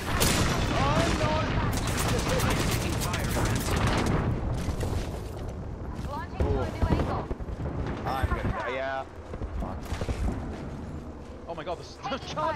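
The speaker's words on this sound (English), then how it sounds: "the charge rifle squad's still shooting at us!" Heavy gunfire in the video game Apex Legends from a squad using charge rifles, rapid overlapping shots and booms running almost continuously, with excited voices talking over the shooting.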